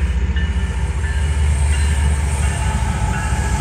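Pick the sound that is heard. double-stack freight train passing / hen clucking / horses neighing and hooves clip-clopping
double-stack freight train passing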